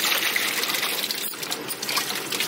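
Taro (arbi) leaves being washed by hand in water, a steady splashing trickle with bright, close sloshing throughout.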